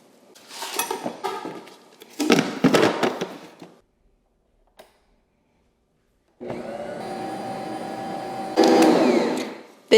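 A stand mixer runs with a steady motor whine while it kneads bagel dough of bread flour and salt. Clattering and knocking bursts come before a quiet gap, and the motor grows louder near the end.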